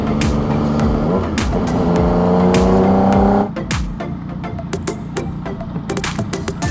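A car overtaking on a curve during a ride through Doña Remedios Trinidad: a loud engine drone rising in pitch, then dropping away after a few seconds into a quieter rumble with clicks and knocks, no talking.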